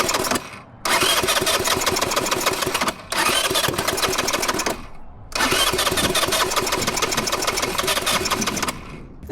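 A cold minibike engine runs with a rapid, loud putter that cuts out briefly several times and then catches again.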